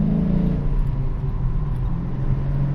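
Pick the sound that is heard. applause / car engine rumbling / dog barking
car engine rumbling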